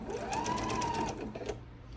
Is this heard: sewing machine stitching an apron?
yes